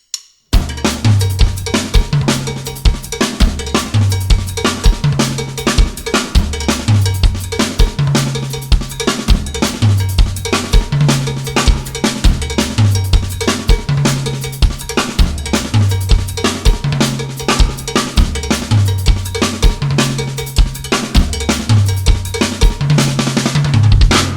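A fast drum kit groove built around a loud, constant cowbell pattern, with kick drum and other drums driving steadily underneath for the whole stretch, played up to speed with no talking.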